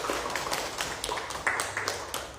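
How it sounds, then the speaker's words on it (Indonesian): Classroom applause for three student groups, scattered light handclaps from a small group, fairly faint and uneven, without any talking over them. "Tepuk tangan untuk ketiga kelompok"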